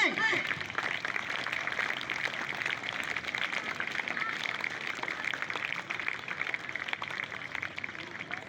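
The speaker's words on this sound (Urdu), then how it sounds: "آپ کی تالیاں خوشی کا اظہار کریں گی." An audience claps continuously at a school prize ceremony honouring students admitted to cadet colleges, a dense steady patter of many hands that holds for several seconds without pause.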